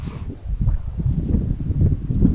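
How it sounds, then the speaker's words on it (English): Steady low rumble of wind buffeting the microphone outdoors, continuous and fairly loud throughout with no pauses. "it's windy and cold"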